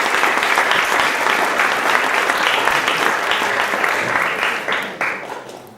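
An audience claps for a speaker being introduced, a dense steady round of applause from a large crowd that holds for several seconds and then tapers off near the end.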